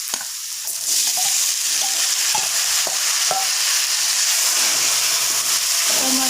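Tomatoes dropped into browned onions in a pan for tomato chutney, starting to fry with a steady loud sizzle while a spoon stirs and scrapes at intervals, no voices.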